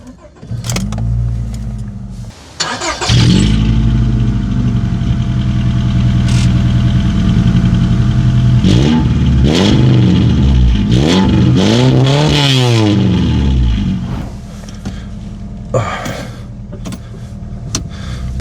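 A Honda Odyssey RA (Shuttle I) 4x4 minivan engine revs while driving, its pitch climbing and falling through several loud, close surges after a short initial burst, with a quieter hum near the end.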